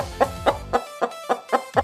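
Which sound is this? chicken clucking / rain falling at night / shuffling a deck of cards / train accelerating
chicken clucking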